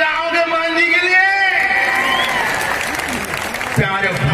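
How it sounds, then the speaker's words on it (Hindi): An audience at a film star night show in Khandwa claps and cheers loudly after a sung or spoken tone, the applause swelling into a dense crowd roar. "ताली नहीं बजाओगे महंत जी के लिए?"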